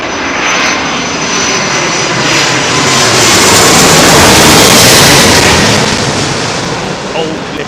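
A Middle East Airlines airliner in old livery arrives on runway 27L at Heathrow, a loud, close jet roar that swells to a peak midway and then eases off as it passes.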